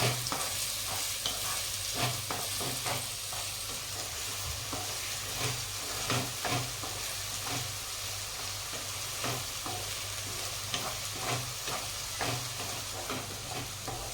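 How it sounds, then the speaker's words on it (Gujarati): Onions sauté in a pan for paneer bhurji. A continuous close sizzle is broken by regular scraping stirs of the spatula, and no one speaks. "આપણે ડુંગળીને થોડી લાલ થાય ત્યાં સુધી સાતળવાની આપણે આ રીતના"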